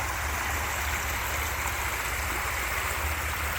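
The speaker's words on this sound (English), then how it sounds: "some rushing water on this side." Rushing water of a creek in the woods along a nature preserve trail, a loud, constant close-up rush and gurgle with no voices.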